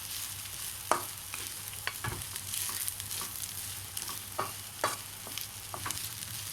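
Chicken fried rice stirred and tossed in a hot pan, a constant close sizzle of frying broken by repeated scraping and clacking strokes of the utensil as clumps of rice are broken up.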